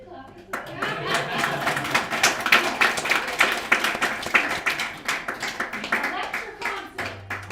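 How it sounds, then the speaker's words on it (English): An audience at a spiritual talk breaks into a round of hand clapping, a dense patter of many hands that builds quickly and holds steady for several seconds before tapering off. "All right, yeah, you can clap."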